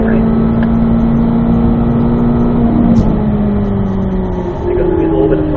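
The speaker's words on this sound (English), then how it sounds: "There goes a little bit of throttle here." A car engine on a race track hums steadily at mid pitch, with a tone that climbs slightly as throttle is applied in third gear, while an instructor talks over it continuously.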